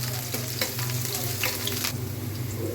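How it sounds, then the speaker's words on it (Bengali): Onions frying in a pan for a mustard hilsa dish, giving a steady close sizzle with light stirring scrapes. "পেঁয়াজটাকে প্রথমে একটু ভেজে নিতে হবে।"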